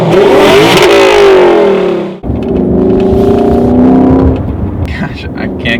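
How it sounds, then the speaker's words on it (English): A Lexus LC 500's 5-liter naturally aspirated V8 revs hard and close, rising, dropping sharply, then climbing again in a loud sustained roar. "What's making all this noise is a 5-liter naturally aspirated V8 engine producing 471 horsepower and 398 pound-feet of torque"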